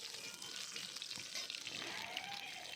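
Whole cumin, nigella seeds, bay leaf and a green chili sizzle steadily in hot oil for an egg and eggplant dish, with a soft, continuous frying hiss and light stirring close by.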